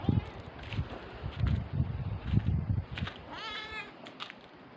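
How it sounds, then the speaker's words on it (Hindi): A cat meows a few times in a Himachali hill setting, with a woman repeatedly calling to it in a meow-like voice; a short, clear meow stands out near the end amid soft rustling. "क्या म्याऊं, क्या म्याऊं,"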